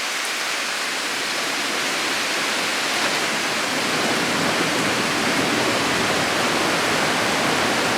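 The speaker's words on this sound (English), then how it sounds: "Wind and rain." Wind and rain of a nighttime storm make a dense, steady hiss that grows slightly stronger over the span, with no voices.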